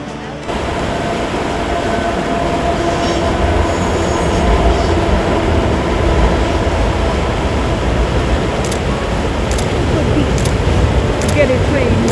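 A train rumbles past steadily and loudly at close range in the Rocky Mountains, with rolling wheel noise and a few faint metallic squeaks.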